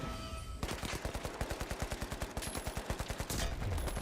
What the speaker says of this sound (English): This is why you burst fire, folks.